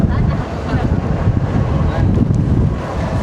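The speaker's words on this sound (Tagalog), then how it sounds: "Ang lakas ng alon dito, kuya." Strong sea waves crash on a Boracay beach shore with a loud, continuous roar of surf, heavy wind buffeting the microphone and a voice faintly mixed in.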